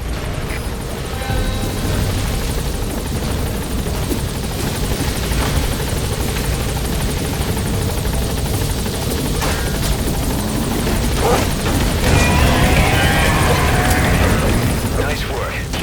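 A military helicopter touches down in the stealth action game Metal Gear Solid 5, its loud rotor thumping and turbine whine sustained across the scene, with radio chatter and in-game effects layered over it.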